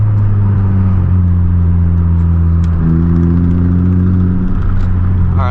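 Engine of a Stage 3 flex-fuel-tuned Honda Civic Type R revving loud and steady as the car pulls in gear, a strong droning tone holding and shifting pitch midway, heard close from inside the cabin without talk.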